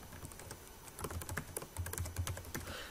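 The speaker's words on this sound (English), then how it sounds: "So just type that in down here in the name." Typing on a computer keyboard while setting up a Visual Basic project: a quick run of light, close key clicks in uneven bursts, with a few louder taps toward the end, no voices.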